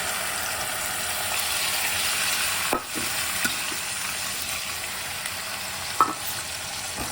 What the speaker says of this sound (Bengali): শুধু চিংড়িটা এবার ঢেলে দেবো